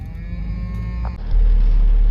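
Cattle being moved along a country road during a cattle drive, a low drawn-out moo heard close over a steady vehicle engine rumble that swells louder near the end.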